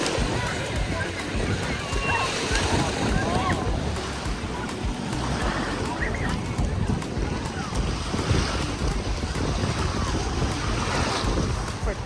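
Freshwater lake waves at Crystal Beach, Ontario, washing continuously against the shore under heavy wind buffeting on the microphone, with a voice talking over the surf.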